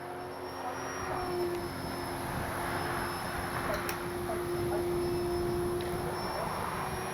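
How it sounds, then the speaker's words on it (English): Steady buzzing whine of an FMS Ranger 1220 V2 model airplane's electric motor flying overhead, constant pitch with slight fluctuations, moderately distant. "Great flying little plane."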